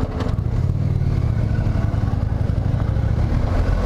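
Indian Challenger motorcycle riding on the highway, its engine a steady close low rumble with wind buffeting, continuous throughout with no talk.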